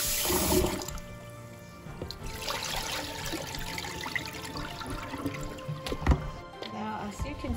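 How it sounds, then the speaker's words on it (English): Sticky rice being washed and rinsed by hand in a bowl of water while preparing Thai mango sticky rice; close, continuous sloshing and trickling water with small splashes, a voice faintly present in the background. "We give it a good wash and we rinse out this water."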